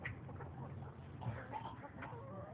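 Chickens cluck softly in a quiet stretch, with a few scattered, fairly faint clucks and calls and no voices over them.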